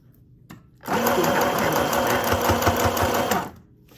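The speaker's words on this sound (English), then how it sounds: "You did hear the machine a little bit, but it handled it just fine." A portable sewing machine stitches through four layers of fabric, a steady rapid mechanical whirring and clatter that starts abruptly, runs for under three seconds close and loud, then stops.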